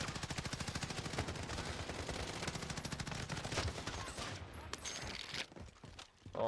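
Sustained rapid machine-gun fire in the Warzone video game, a dense, steady stream of loud shots that thins out and breaks up near the end.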